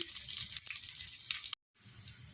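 Mustard seeds, cumin, urad dal, garlic cloves and dried red chilies fry in hot oil for a tomato chutney tempering, a soft, steady crackling sizzle that cuts out briefly and then resumes, faint and unaccompanied.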